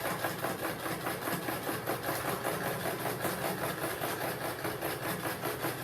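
A sewing machine stitches two pieces of bench box cushion cover fabric together, its motor giving a steady, continuous close-up whir with a fine rapid mechanical texture for the whole stretch, with no talking.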